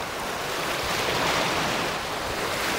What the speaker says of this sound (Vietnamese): Sóng khá là lớn đây